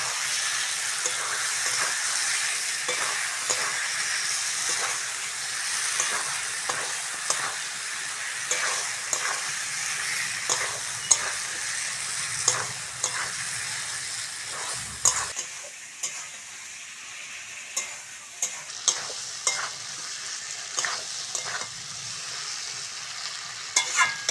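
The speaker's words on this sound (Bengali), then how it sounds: "কেটে ধুয়ে রাখা আলুটা দিয়ে দেবো আলু দিয়ে ভালো করে কষে নেবো" Cut potatoes frying in a spice masala for fish curry, a dense, steady close sizzle with frequent spatula scrapes and taps, thinning out partway through and then continuing with sharp regular strokes, no talking.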